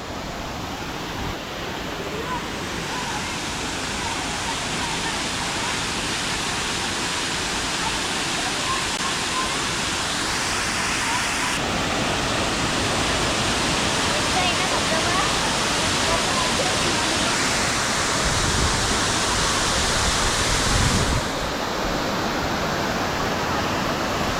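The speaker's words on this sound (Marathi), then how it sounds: "हा बघ आपला धबधबा धबधबा एकदम सफेद सफेद पाणी आहे" A waterfall roars in a loud, constant rush of falling water, with voices talking faintly over it.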